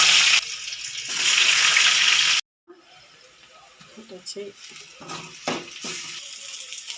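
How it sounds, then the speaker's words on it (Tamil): Onions dropped into hot oil with fenugreek seeds while cooking a Tamil dried anchovy (nethili karuvadu) curry, giving a loud broadband sizzle for about two seconds, then a sharp cut to quieter crackles, clinks and scattered spoon sounds. "வெங்காயம் போட்டுக்கலாம்"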